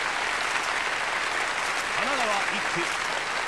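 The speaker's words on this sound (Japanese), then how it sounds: "拍手でかすぎるやろ" Loud, dense crowd applause from the video game Yakuza: Like a Dragon fills the scene continuously, a steady wash of clapping with a voice speaking over it.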